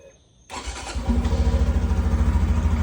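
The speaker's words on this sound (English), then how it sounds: "Let the bike get warmed up, and then we're gonna take it for a rip" A 2023 Honda Trail 125 motorcycle with a newly installed intake starts up and settles into a steady, throbbing idle as it warms, loud and close, with a rhythmic low pulse and no talk.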